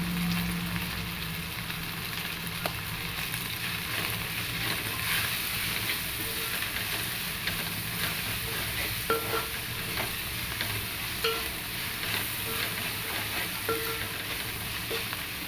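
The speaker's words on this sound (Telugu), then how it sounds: "కొద్దిగా వేయించుకోవాలి" Turmeric fries in a pan as the start of an okra curry, giving a steady, continuous sizzle throughout with faint stirring scrapes and no talking.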